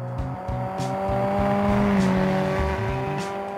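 An ETK K-series coupe with a street tune drives in BeamNG.drive, its engine holding a steady droning note with gear-change steps and a slight rise in revs, loud and continuous with no talk.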